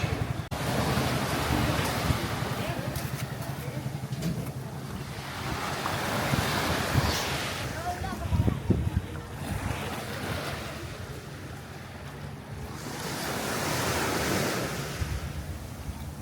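Ocean waves break and wash up on a Philippine island beach with strong wind buffeting the microphone, the surf swelling and receding in slow rolling surges with no talk.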